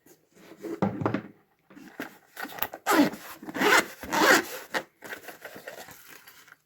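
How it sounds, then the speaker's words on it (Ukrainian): A zipper runs open and then closed around the fabric cover of a carry case for fishing gear, several rasping pulls close up with brief rustles and pauses between them, no voices. "Чохольчик відкриваємо і складаємо. Точніше, отак от правильніше буде. І закриваємо."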